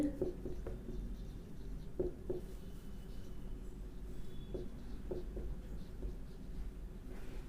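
A quadratic equation is written out by hand: faint, close scratching and tapping strokes in short irregular bursts over a low steady background hum.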